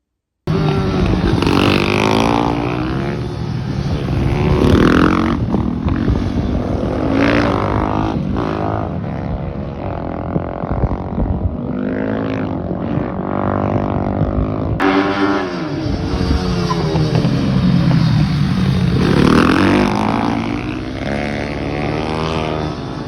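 Supermoto motorcycles ridden by Max Biaggi taking a corner, loud revving engines rising and falling through the bend, with a brief cut before a second pass.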